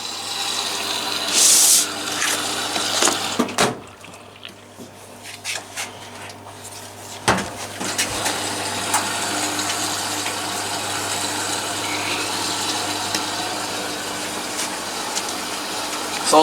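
Water filling up during a clean cycle, a steady rushing hiss with pump-like hum lasting throughout, interrupted by a few sharp clicks and knocks near the start, and no talking.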